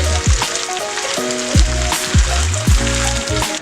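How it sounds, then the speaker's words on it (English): Vegan pesto ingredients cook in a hot pan, a loud steady sizzle broken by repeated scraping strokes of a utensil as they are stirred, close up and with no voices, while tonal background music plays underneath. "now I'm just mainly stirring the rest of the ingredients together"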